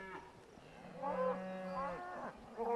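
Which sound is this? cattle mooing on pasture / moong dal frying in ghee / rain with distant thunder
cattle mooing on pasture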